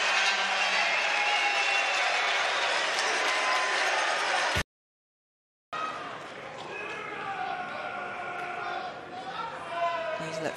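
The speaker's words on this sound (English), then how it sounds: "The crowd goes nuts." Spectators at a Mosconi Cup pool match clap and cheer in a steady roar of applause, briefly cut to silence and then resuming with a commentator talking over the crowd.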